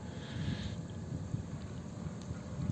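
Steady wind blowing outdoors at a fishing spot, a continuous low rumble buffeting the microphone, with a faint higher whoosh near the start and no speech.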